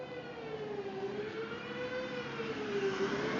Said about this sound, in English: It's the fire alarm going off.